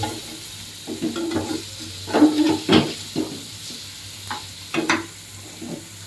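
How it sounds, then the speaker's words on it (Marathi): Ghol fish shallow-frying in a pan: a steady close sizzle with bursts of spattering and scraping stirs every second or so, no talking. "दोन्ही साईडने तुम्ही फ्राय करून घेऊया"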